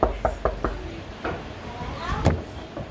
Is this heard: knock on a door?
yes